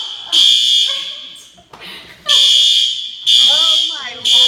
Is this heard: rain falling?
no